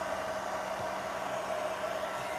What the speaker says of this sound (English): So this dryer has a cooling button on it